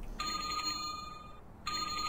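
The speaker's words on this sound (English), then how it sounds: "That sounds like a freaking phone, not a bell." Phone ringing in the indie horror game The Elevator, set during a hotel night shift: two bursts of a steady electronic trill, the first long and the second starting after a short pause, loud and clear over a low hum.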